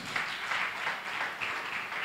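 A church congregation at a Sunday service claps together, a steady wash of many hands that swells and dips in loose waves, continuous and fairly distant.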